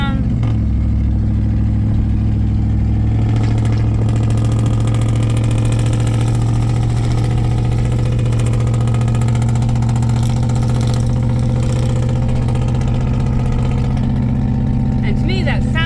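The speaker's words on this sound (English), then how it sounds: "So, obviously louder exhaust. You can hear that." A 2011 Chevy Silverado with a louder aftermarket-style exhaust holds a loud, steady idle with a deep droning hum and mild rises in revs, heard up close from inside the truck with the windows down.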